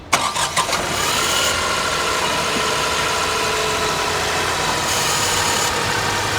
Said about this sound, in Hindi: एक बार आवाज़ सुन लो भाई नए इंजन की